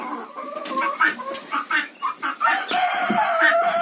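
Hens cluck and call in a winter chicken coop at close range, with several overlapping birds giving short repeated clucks and one sustained call toward the end.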